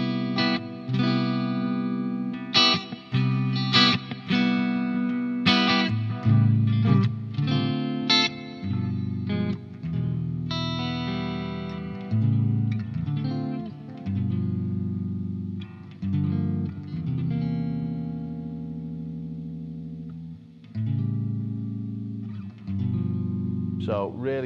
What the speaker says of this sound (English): Now I'm going to kick in the delay